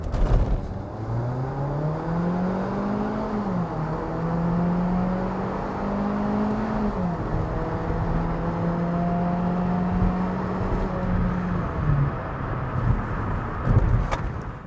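A 2010 Hyundai Sonata accelerates hard from a standstill toward 60 mph on a slippery chloride-treated road with traction control on, its engine note climbing steadily through the gears with clear upshift dips, loud and continuous throughout.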